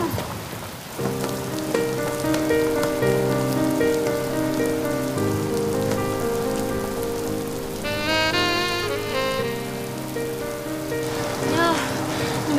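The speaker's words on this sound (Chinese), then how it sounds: "外面下雨了" Steady rain falls outside in a residential compound during a Chinese TV drama scene, a constant hiss running underneath a loud, sustained orchestral music score for the whole stretch.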